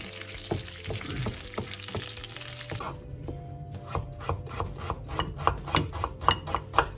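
Pine nuts roast in melted butter in a pan for anchovy pilaf, a close dry sizzle under a quickening run of rhythmic spoon scrapes and rubs, with no talking.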